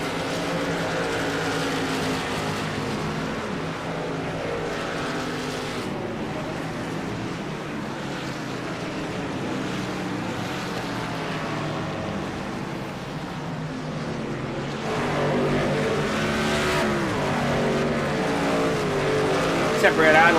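Racing trucks roar around the Red Bull Ring in the iRacing Platinum Truck Series, engines droning continuously with shifting pitch as they battle, under ongoing commentary.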